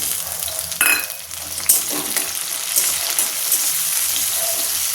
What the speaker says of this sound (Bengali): টমেটো কুচি করে দিয়ে দেবো।